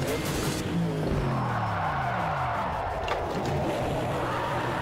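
Ford Mustang RTR drifting in Project Cars 2, tires skidding and squealing through a slide over a steady engine roar, with descending whine-like tones early on.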